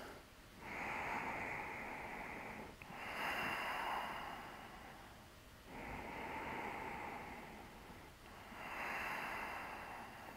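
Slow, deep breaths held through a yoga balance pose, four long airy inhale-exhale cycles at a steady unhurried pace, close and clear with no talking over them.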